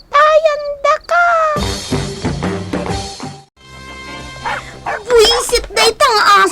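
A dog barks and yips in short, loud, close bursts among talking voices and some music.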